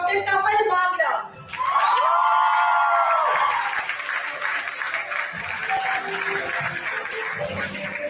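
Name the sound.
conference audience applause and cheering for award winner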